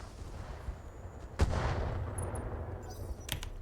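Mech weapons firing in BattleTech with the RogueTech mod, a single loud blast followed by a rumbling tail and a sharper report near the end, no voices.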